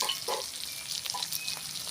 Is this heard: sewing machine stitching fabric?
no